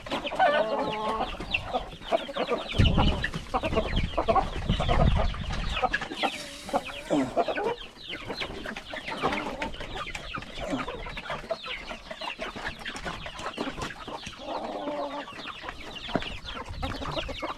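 Free-range chickens clucking on a farm, a steady chorus of overlapping clucks and squawks from several birds close by, continuing throughout with louder bursts now and then.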